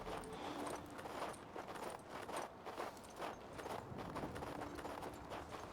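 Horse hooves clip-clop in a steady walking rhythm in the video game King's Bounty II, clear and fairly close over a quiet ambient bed, with no talking.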